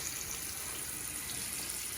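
Water streams steadily from a bathroom sink tap in a constant hiss that holds at even strength throughout, close by with no voices.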